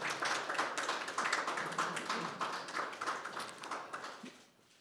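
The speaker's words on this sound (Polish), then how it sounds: "Proszę o brawa." Applause at a plaque unveiling ceremony for Poland's first president, Gabriel Narutowicz: a crowd claps steadily for several seconds before the clapping tapers off at the end.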